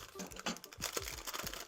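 Packaging for 22 Designs Outlaw X telemark bindings being opened, with close crinkling and rustling of plastic and paper in quick, irregular bursts.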